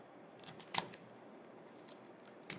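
Scissors snip at a tight plastic seal in a few sharp isolated clicks and crunches, close and quiet against a faint room hiss.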